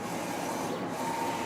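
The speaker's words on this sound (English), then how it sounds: "That's what I like with this printer too, is it prints relatively fast." A DTF printer running a print on hot peel film, a continuous dense mechanical whir and hum at close range with no pauses.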